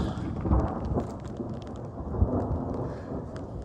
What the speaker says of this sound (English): Hey, you don't get spooked by the storms?